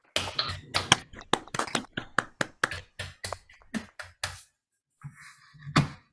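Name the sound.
applause over Zoom for board of directors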